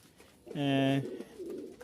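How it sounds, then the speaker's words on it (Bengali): A single soft house pigeon coo, about half a second long, rises out of quiet background noise. "এখানে হাউস পিজন আছে"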